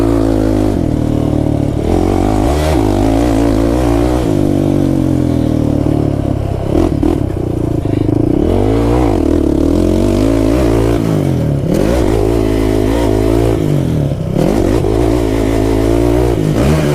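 Kawasaki KFX 450R quad with a repaired exhaust revving hard on a dirt track, loud and close, the engine note rising and falling repeatedly through throttle bursts and shifts with no talking.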